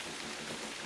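Rain falls in Hunter Call of the Wild as a faint, steady hiss of drops with no other sounds.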